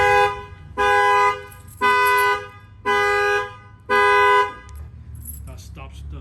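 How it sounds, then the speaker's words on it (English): A RAM TRX / RAM 1500 pickup's alarm horn set off by a shock sensor, blaring in four evenly spaced loud honks of about half a second each, followed by quieter background noise. "bang on the other side to show you that the alarm will trigger"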